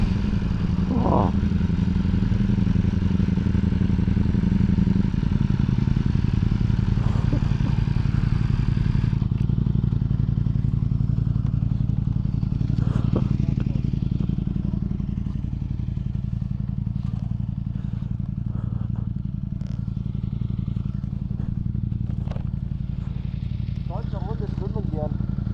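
A motorbike engine rumbles steadily while riding toward a hidden dam, a constant low drone with occasional clatter and scraping, as people talk over it.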